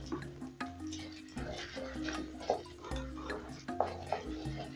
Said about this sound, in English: I'll go in with my rice, and I've already washed and drained my rice. I'll mix this in.